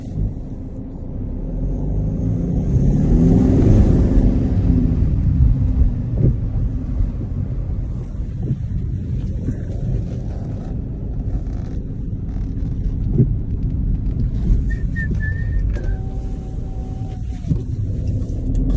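A 2012 Mercedes-Benz C250 with a 2.2-litre diesel engine drones and rumbles steadily while driving in sport mode, swelling as it accelerates, with wind and road noise throughout.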